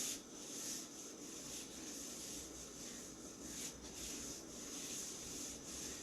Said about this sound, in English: I'm going to take my light blue crayon and I'm going to make like an oval